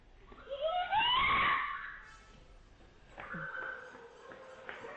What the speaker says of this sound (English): Just listen to the scream that this woman sends out.